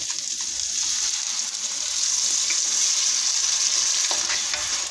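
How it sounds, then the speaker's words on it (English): Beef and broccoli sizzle loudly in a hot pan after sauce goes in, a dense continuous frying hiss with light stirring, close and steady, with no talking. "now I'm gonna put my sauce"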